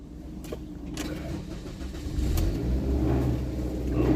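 A Ford Escape with a four-cylinder engine drives along, its steady low engine rumble and road noise close and continuous, swelling slightly louder partway through, with no talking.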